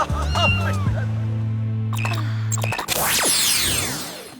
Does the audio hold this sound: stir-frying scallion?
no